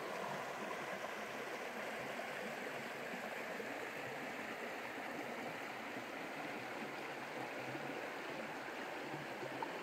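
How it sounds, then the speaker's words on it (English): A small river rushes steadily over its bed on the Middle Fork John Day River in northeastern Oregon, a constant broadband wash of flowing water with no pauses or voices. "Lovely, lovely rushing little river."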